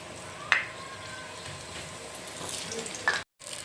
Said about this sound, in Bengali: আমরা এখন এই পাশে আলুটা ভেজে নেব